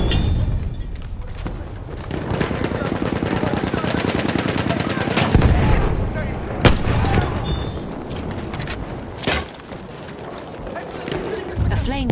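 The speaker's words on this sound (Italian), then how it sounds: "Ehi, c'è una mitragliatrice!" Sustained rapid machine-gun fire in a video game, loud and continuous for several seconds, joined by occasional heavier single shots and thuds near the end.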